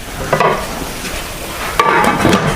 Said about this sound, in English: So I'm going to fry a little bit more